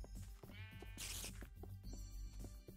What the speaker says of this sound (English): Holy freaking heck, sheep.